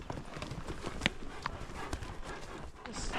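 Horse hooves on a ranch spring horse drive, a young horse in training among the herd, give a steady, brisk clip-clop close by over a busy outdoor background.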